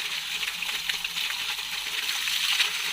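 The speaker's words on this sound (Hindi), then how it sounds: "देखिए इतना एक समान पानी एकदम आते रहता है, ना ही कम ना ही ज़्यादा।" Spring water pours steadily and evenly at a Shiva shrine in Bermasia, Bagodar, a constant close, bright rushing flow with no pauses or talk.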